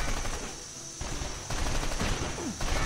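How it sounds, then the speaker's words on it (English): Gunfire aimed at the player in the PlayStation 2 game 24: The Game, a dense continuous crackle of rapid shots and bursts with a few louder close hits over a constant noisy backdrop. "where are they shooting me from?"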